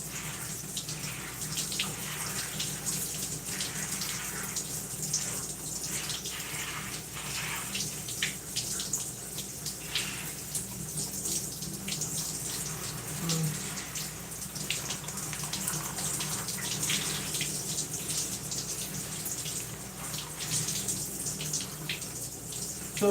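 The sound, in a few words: water running while rinsing out hair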